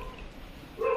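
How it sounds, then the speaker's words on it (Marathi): A dog barks outside a home, a short loud burst near the end that stands out over a quiet indoor background. "तो बघ, बाहेर कुत्रा भुंकतोय."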